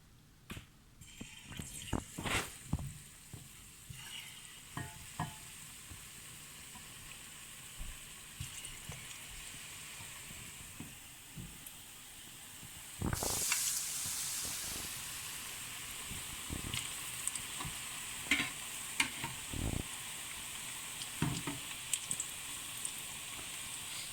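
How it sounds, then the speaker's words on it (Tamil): Batter-coated mung bean balls for Jaffna paniyaram go into hot oil: first scattered taps and small plops, then the frying jumps to a louder, sustained bubbling sizzle that continues with sharp crackles. "இனி நாங்கள் இந்த உருட்டி வைத்த உருண்டைகளை இந்த மாக்கலவையில் போட்டு எண்ணெயில் போட போகிறேன்"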